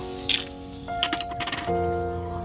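Whole spices, black peppercorns among them, drop into a pan with fried dried chilies, giving a short rattle and clatter of grains followed by a steady sizzle.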